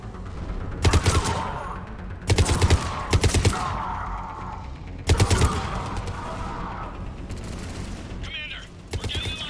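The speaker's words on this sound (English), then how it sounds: "Commander, we're getting a lot of mortar fire." Mortar blasts and gunfire in the video game Mass Effect 3, loud bursts of rapid shots and booms in clusters separated by short lulls, with a voice speaking between them.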